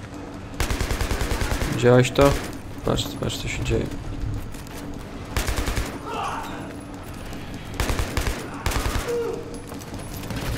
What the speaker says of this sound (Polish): Ktoś tu cały czas do mnie strzela, ja go niestety nie widzę.